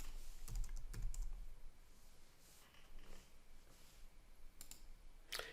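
Typing and mouse clicks at a computer keyboard during PCB design CAD work, with scattered close keystrokes and a sharper burst of clicks near the end, no talking.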